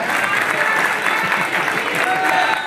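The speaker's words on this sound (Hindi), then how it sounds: "अब इसको क्या मानोगे, ताली नहीं बजाओगे क्या हैं?" A large audience at a religious darbar gathering claps loudly and continuously, dense sustained applause filling a big hall with faint crowd murmur beneath.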